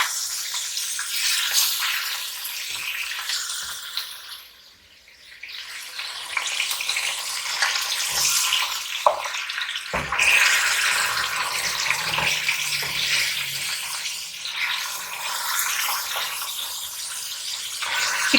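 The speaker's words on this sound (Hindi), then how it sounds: "अभी चिकन को फ्राई करना है आपने।" Chicken frying in a karahi, a loud, dense, continuous sizzle close up, briefly dipping and changing as pieces are added or stirred, then building back to a steady crackling hiss.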